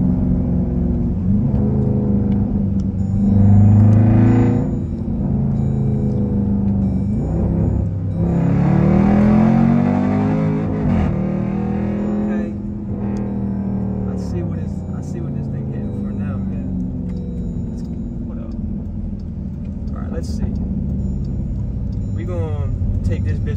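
The engine of a Dodge Durango SRT with paddle shifters revs loud and close from inside the cabin, rising in pitch through two strong surges of acceleration before settling into a steady, droning rumble.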